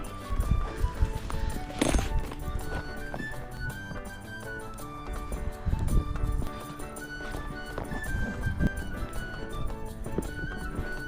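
Horses ridden English-style on a farm in winter clip-clop with irregular hoof strikes under steady background music, the louder thuds standing out at a few points.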